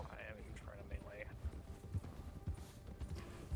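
Horses in the game Red Dead Redemption 2 gallop with a quick, steady hoof clatter that continues throughout, while a few faint high electronic chirps sound near the start.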